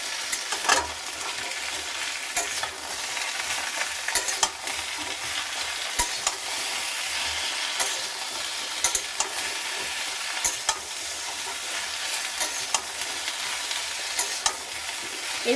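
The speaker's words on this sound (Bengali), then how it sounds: "এবার দিয়ে দিচ্ছি বরবটিটা।" Yardlong beans and other vegetables cut into long strips fry in a pan for a vegan pumpkin-greens chorchori, giving a steady, dense sizzle with occasional stirring clicks and scrapes throughout, no voices.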